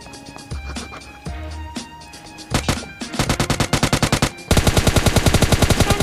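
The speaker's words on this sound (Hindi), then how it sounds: "यहाँ से गन साउंड आ रहे थे।" Bursts of automatic weapon fire in the battle royale game PUBG Mobile Lite start with scattered single shots and build into loud, rapid, evenly paced volleys that grow heavier toward the end.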